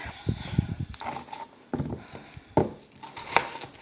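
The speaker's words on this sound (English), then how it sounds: "So I'm just going to chop these onions" Knife chopping onions for country chili on a cutting board at home: several irregular sharp, close knocks and taps with faint kitchen clatter between them.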